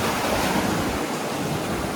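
Sea waves surge and wash into a rocky coastal cave at high tide in stormy weather, a loud continuous roaring rush with wind buffeting the microphone and no voices.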